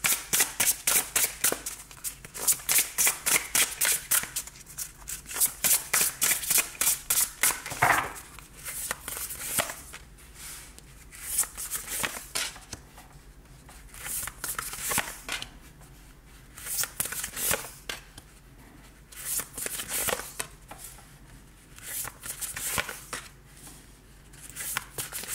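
Tarot cards shuffled for a reading make a long run of crisp riffling flutters, fast and rhythmic at first, then settling into looser, irregular bursts of card slaps and rustles, close by, with no talking.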